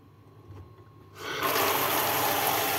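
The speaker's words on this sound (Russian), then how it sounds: "И набираем туда воду." Tap water runs into a lidded container, starting abruptly after a quiet second and then gushing steadily and loudly as the vessel fills, with no talk.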